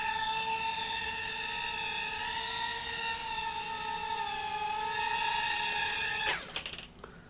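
Tiny motors of a Syma nano drone modded into a Runner 63 Nano Wasp whine at full throttle, a loud high-pitched buzz with wavering pitch that cuts off abruptly near the end with a few clicks.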